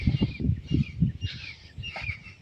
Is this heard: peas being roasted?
no